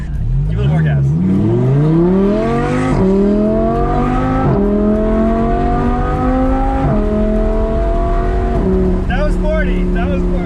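Audi R8 V10 engine revving hard under acceleration, the pitch climbing through several gear changes with crisp shifts, loud and close throughout the run while voices talk over it.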